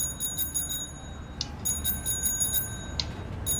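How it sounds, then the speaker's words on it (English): An old, weathered bicycle bell in the game A Way Out gives two short, bright rings about a second and a half apart, cutting through steady low rumble and a faint repeating ticking behind it. "At least the bell works."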